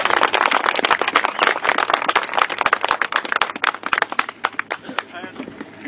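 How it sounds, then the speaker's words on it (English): A crowd claps at a 2007 ferry opening ceremony, with dense, uneven hand claps running steadily for several seconds while voices talk over it. "I think we ought to give them a big hand of applause for all the work"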